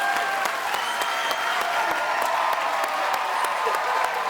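Loud, sustained studio audience applause on a French-language talk show, a dense continuous wash of many hands clapping with faint cheers mixed in.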